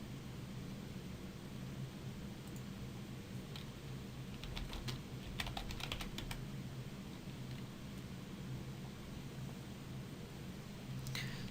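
A burst of computer keyboard typing in the Vim editor: a handful of scattered clicks, then a quick cluster of keystrokes mid-way and a final tap, faint over steady background hiss.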